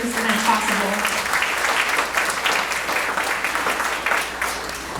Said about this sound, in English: let's give another round of applause to all the volunteers who have helped make this event possible